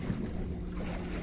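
Wind buffets a small boat in choppy water, with a steady low rumble of gusts and waves washing against the hull, faint and continuous with no voices.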